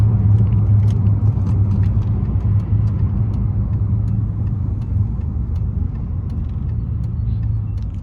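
A muffler-deleted Pontiac Grand Prix GT rumbles with a deep, loud exhaust drone heard from inside while driving, steady and throaty with faint ticks on top.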